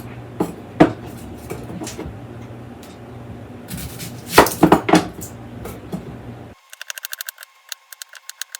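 Half an onion is cut on a cutting board, sharp knife taps and board knocks landing in irregular clusters near and clear, then a burst of quick rhythmic chops at the end, with no talking.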